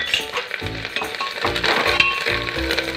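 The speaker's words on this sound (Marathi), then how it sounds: "जिरं चांगलं परतून झाल्याच्या नंतर आपण त्यामध्ये अर्धा चमचा हळद टाकून घेऊ आणि भरपूर सारी कोथिंबीर टाकून घेऊ" Cumin seeds sizzle in hot oil in a pan as half a spoon of turmeric and plenty of fresh coriander leaves go in for moong dal khichdi. The steady, close crackle carries a few soft thumps from stirring.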